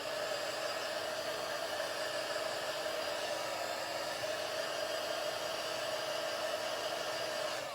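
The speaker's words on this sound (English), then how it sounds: "you're just going to carefully give it a quick dry on one side" A hair dryer blows steadily on homemade vellum paper, a loud, unbroken whooshing drone held close for the whole stretch with no pauses or voices.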